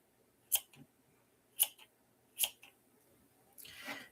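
Scissors trim a chunky yarn pom-pom on a lamb wreath with three crisp, separate snips spaced about a second apart, then a soft rustle of yarn at the end.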